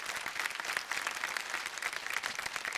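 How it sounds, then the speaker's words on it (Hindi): A studio audience on a TV singing show applauds, giving a steady, dense wash of clapping that holds at an even level throughout. "बहुत सी तालियां श्वेता के लिए"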